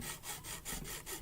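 A knife blade rubs back and forth on a sharpener in quick, even strokes, about six rasping passes in just over a second, close and fairly quiet with no talking.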